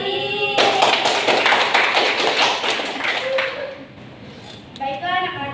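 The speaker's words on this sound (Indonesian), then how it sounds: "Tepuk tangan." A class of schoolchildren claps hands in a rapid, dense burst of applause that fades out, with a teacher's voice briefly heard before and after.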